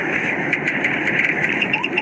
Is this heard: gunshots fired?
no